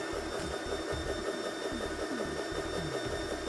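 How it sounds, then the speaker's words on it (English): An air conditioning compressor runs on DC power with a steady mechanical hum, irregular low thumping pulses and a faint high whine, heard close and alone. "All right, compressor is up."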